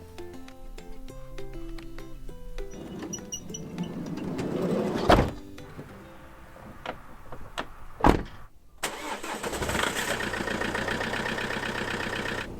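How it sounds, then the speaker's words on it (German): A camper van's engine is started in the cold of a Black Forest winter camp. After a quiet stretch with a few clunks and a loud thump, it catches and settles into a steady, close idle rumble. "So, Motor läuft."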